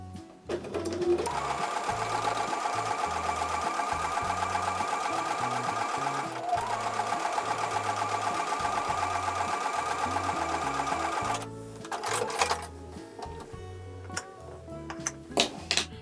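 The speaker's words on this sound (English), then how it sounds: "So I'm going to take that over to the sewing machine and sew with a 1/4 inch seam" A sewing machine stitches a quilt block with a quarter-inch seam, a close, steady motor hum with a rhythmic needle thump running for about ten seconds before stopping, followed by a few handling clicks.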